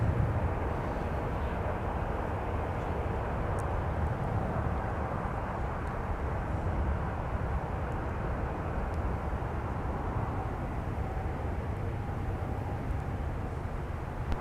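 Aircraft at MSP airport, a broad distant roar of jet engines rolling steadily and fairly faint over the whole stretch, with no voices.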